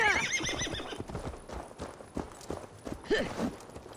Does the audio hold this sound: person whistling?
no